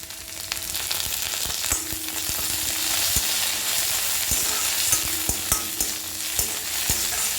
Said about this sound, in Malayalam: എല്ലാം കൂടെ നന്നായിട്ട് മൂത്ത് വരട്ടെ